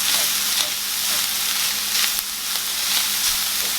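Ground beef and garlic fry in a hot pan with a loud, steady sizzle that never lets up. Occasional stirring scrapes rise briefly above the crackle, and no one speaks.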